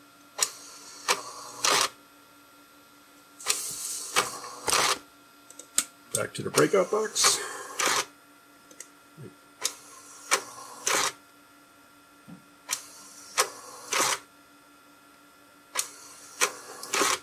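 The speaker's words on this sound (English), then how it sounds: "You can see kind of that the printer head needs to return to the left side of the printer." An IBM 5181 Compact Printer printing a graphic: repeated short bursts of buzzy, rattling print-head passes with pauses between them, and a brief burst of louder clatter partway through, heard close, with a voice speaking briefly over it.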